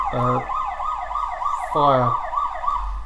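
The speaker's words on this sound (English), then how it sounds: "Got fire engine across the road." Fire engine siren wailing across the road, a steady oscillating two-tone whoop at moderate distance, with a couple of short horn blasts cutting through.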